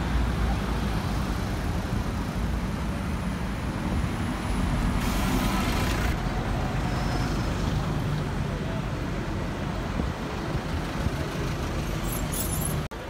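Heavy vehicles, buses among them, rumble past on Regent Street in London traffic, a continuous loud roar with a brief hiss like an air brake partway through and no talking.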